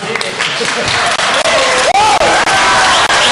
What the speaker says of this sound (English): when you are clapping and cutting, you're cutting her off